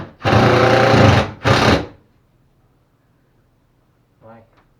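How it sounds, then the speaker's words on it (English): A drill or screw gun drives drywall screws during soffit and drywall work, with one long loud whirring burst and a shorter second one. After them comes near silence, then a brief voice. "Go ahead and put screws."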